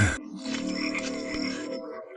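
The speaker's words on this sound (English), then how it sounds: "From somewhere in the distance, they heard the croaking of frogs" Frogs croak in a dense, overlapping chorus, a steady pulsing rattle heard alone at moderate distance after a brief opening noise.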